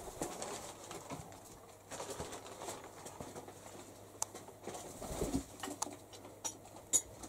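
Pigeons of a new brood cooing softly at close range amid faint wing flutters and rustling, low and intermittent with no talking.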